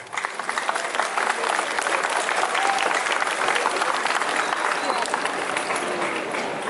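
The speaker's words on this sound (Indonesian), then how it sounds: "Tepuk tangan untuk SMA 1." Sustained applause from a large school audience at an alumni address, dense steady clapping filling the whole stretch, fairly loud and close, with a faint crowd murmur underneath.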